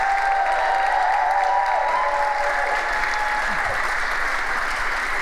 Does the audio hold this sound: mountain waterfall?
no